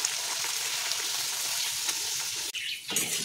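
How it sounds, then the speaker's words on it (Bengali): Luchi, puffed white flour flatbread, fries in hot oil with a steady close sizzle and stirring, then a sudden dip and a fresh burst of bubbling near the end. "তো চলো লুচিটা তুলি আর টুপুস করে তেলের মধ্যে ছেড়ে দিই।"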